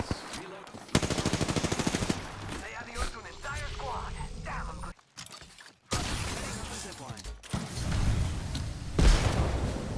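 Rapid automatic gunfire in the Apex Legends battle royale, loud bursts of fast shots with gaps between volleys, mixed with in-game effects and players talking over the action.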